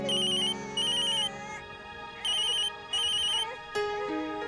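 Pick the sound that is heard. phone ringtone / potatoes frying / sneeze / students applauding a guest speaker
phone ringtone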